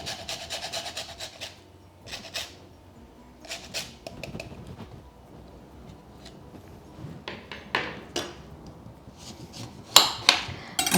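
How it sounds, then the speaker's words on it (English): Lemon zest rasped on a kitchen grater while preparing a rice filling for stuffed vine leaves: a run of short, scratchy strokes in irregular bursts, close and fairly quiet, with sharper scrapes near the end. "So we're going to use some lemon zest."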